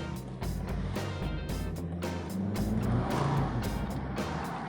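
A Volvo XC90 SUV with the 2.4 engine drives on a rainy road, a steady low rumble of engine and tyres with hiss and splashing spray, fairly quiet and continuous.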